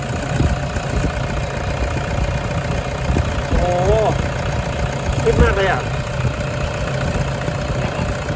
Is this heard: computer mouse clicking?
no